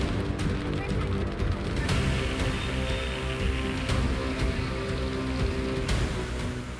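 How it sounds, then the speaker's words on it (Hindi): Heavy monsoon rain falls across eastern India as a dense, steady wash of broadband hiss, loud and continuous throughout with occasional sharper splashes and no clear voices. "इस बार पूर्वी भारत में भी भारी बरसात हो रही है।"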